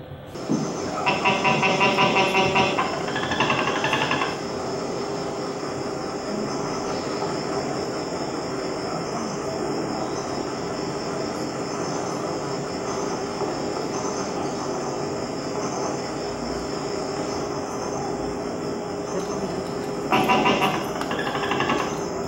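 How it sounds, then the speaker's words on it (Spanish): Repeated high-pitched trilling calls of a Mexican tree frog come in short bursts over a constant background hum of night insects. "Es una rana que está muy ampliamente distribuida, le llaman rana arbórea mexicana"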